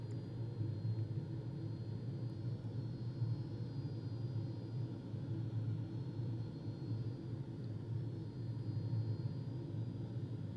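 Steady low engine rumble inside a light airplane on long final approach toward a runway near a Tuscan beach by Livorno, droning evenly and unbroken throughout.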